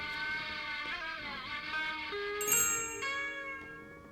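A small bell rings in the video game The Night of the Rabbit, its bright, sustained tones shimmering and layering over about four seconds, with a sharper ding midway that then fades slowly.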